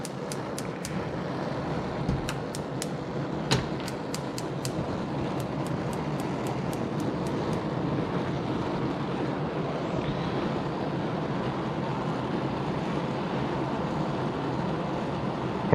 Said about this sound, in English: How loud does my stove get if I just turn them all on?